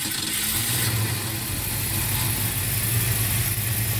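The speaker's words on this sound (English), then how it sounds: "Let's see how quick a 47-year-old engine starts up." A 47-year-old Ford Maverick engine with a slight cam idles steadily and loudly up close, a continuous low rumble with no talking.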